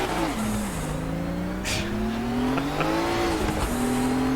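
A race car in the RaceRoom hillclimb sim runs through tunnels, engine note rising and dipping with gear changes, and brief bursts of turbo wastegate chatter break in at moments over the steady drone.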